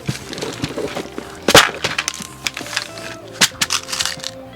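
Plastic pony beads rustle and click inside a bag as it is handled up close, with a loud crinkle and scattered sharp taps among steady small rattling.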